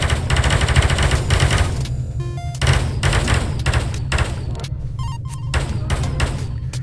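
Rapid bursts of virtual gunfire from the weapons of the VR wave-survival shooter Space Pirate Trainer, dense rattling volleys with short gaps and electronic tones between them, loud and continuous over a low steady hum.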